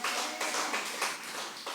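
Congregation clapping in steady rhythmic bursts during a Friday worship service at a church in Busan, a dense crowd sound with no voices over it.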